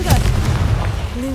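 A Confringo blasting spell in the video game Hogwarts Legacy goes off as one sharp, loud explosive burst followed by a short rumbling tail and a brief whooshing tone.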